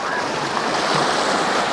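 Sea waves at an Australian beach make a steady, broad roar of surf with wind buffeting the microphone, continuous and fairly loud throughout.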